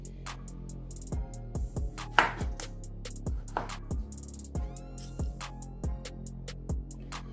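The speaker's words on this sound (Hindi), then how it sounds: "इसी तरह से सारे प्याज और टमाटर काट लेंगे।" A knife chops onions and tomatoes on a cutting board in steady, evenly spaced crisp strokes, about one every half second or so, over faint background music.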